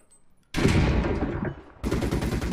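Gunfire in a War Thunder ground battle with an M3A1 Stuart tank, a loud near burst of rapid shots and rumbling blasts that breaks off, then a second burst resumes.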